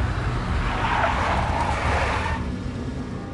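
A big black Mercedes in the video game Max Payne skids with a loud, sustained tire squeal over engine rumble for a couple of seconds, then fades into steady road noise.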